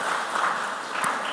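Brief burst of applause from a school audience at a junior high quiz semi-final, fairly faint and short, with a faint murmur of voices.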